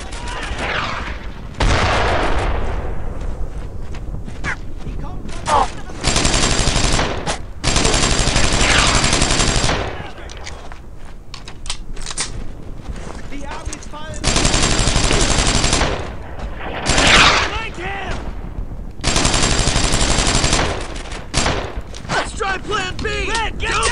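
Gunfire in the WWII shooter Brothers in Arms: Earned in Blood: loud bursts of machine gun and rifle fire that come and go across the clip, separated by quieter gaps of distant shots and battlefield noise.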